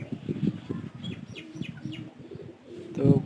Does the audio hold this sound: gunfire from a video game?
no